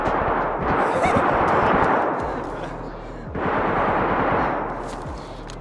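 Gunfire from DayZ: rapid automatic bursts crackle in two sustained volleys with a short lull between, loud and close.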